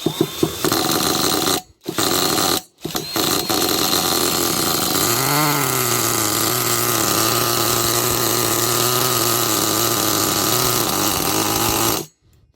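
A Kyosho Mad Force RCX nitro RC monster truck engine runs rough on fuel mixed with synthetic GM truck oil, a loud, steady buzzing drone with wavering pitch that keeps going for about twelve seconds, broken by two brief cutouts near the start.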